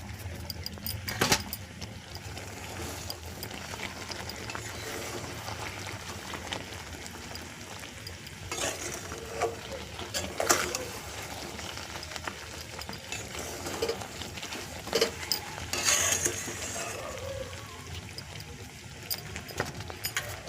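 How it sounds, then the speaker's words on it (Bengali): Quiet stirring of a sticky tamarind pickle mixture with jaggery, soft scattered scrapes and clicks of a spoon against the pan, faint and close with no talk. "গুড়ের সাথে মিশিয়ে হালকা হাতে নেড়ে"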